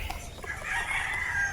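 Chickens on a Filipino backyard farm cluck and crow, a rooster's drawn-out crow rising over scattered hen clucks, fairly close and steady with no talk.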